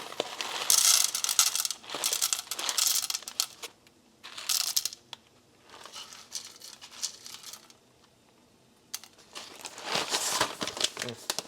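Coffee beans are handled and poured onto a scale for an 18-gram dose for a 9Barista brewer, giving bursts of rattling, crinkling bag and clattering beans in several separate runs, close and fairly loud, with quieter gaps between them.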